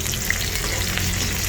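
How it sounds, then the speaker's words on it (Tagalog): Lemongrass sautéing in a hot pan with pork dish prep, a steady close sizzle and faint stirring that runs evenly throughout without talk. "Gisa natin ang tanglad guys."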